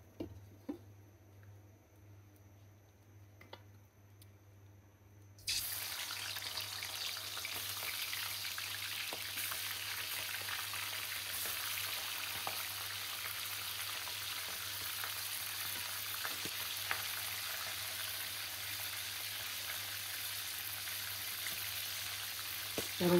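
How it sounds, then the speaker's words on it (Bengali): Country chicken roast frying in hot oil in a pan, a steady dense sizzle that starts abruptly a few seconds in after a quiet stretch and then holds loud and even, with occasional small pops. "এখন আমি তেল দিয়ে ভাজা শুরু করব। এই যে এখন আমি রোস্ট দিয়ে দিচ্ছি"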